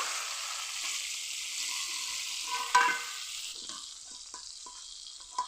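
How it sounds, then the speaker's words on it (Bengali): Garlic frying in a pan makes a moderate, steady sizzle with a brief clatter of stirring midway, after which the frying fades quieter with a few small crackles. "রসুনগুলো কিন্তু খুব সুন্দর ভাজা হয়েছে"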